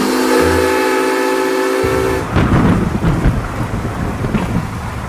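A train departing, staged as a sound effect for an audio drama: a loud sustained tonal drone gives way to a heavy, low rumbling roar as it pulls away.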